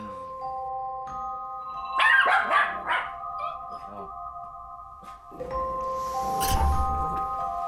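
A dog being trained in front of a home building barks in a burst of sharp, loud yaps, then a few quieter barks, with people talking nearby and a steady hum underneath.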